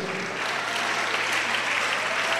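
A church congregation at a Pentecost sermon claps in sustained, dense applause that fills the room evenly from start to finish.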